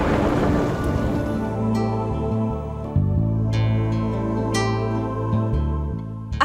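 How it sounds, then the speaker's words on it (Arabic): Steady rain falls throughout, with a deep rumble of thunder and occasional sharper crackles layered into the downpour; a music score with sustained tones plays over it, and no one speaks. "المطر كتير حلو"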